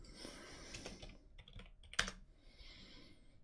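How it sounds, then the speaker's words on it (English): A computer keyboard is typed on in quick, light bursts of key clicks with short pauses and one sharper tap, quiet and close with no talk. "Let me quickly type this here."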